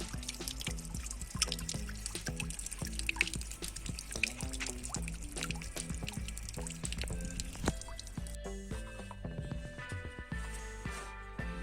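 Water from a pump runs over a small garden waterfall at a dacha, a soft, continuous splashing and trickling with many little drips, close and fairly quiet, with no voices.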